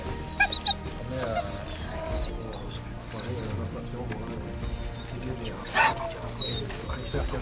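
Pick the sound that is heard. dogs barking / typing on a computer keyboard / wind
dogs barking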